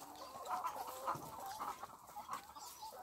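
Free-range chickens at an egg farm cluck in a steady, busy chorus, several birds close by and overlapping throughout with no talk.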